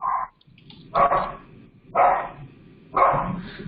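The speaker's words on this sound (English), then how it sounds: "I've got a dog that's going crazy that I hear barking." An agitated dog barks four times in quick succession, each sharp bark about a second apart, fairly close and loud with quiet gaps between them and no talking.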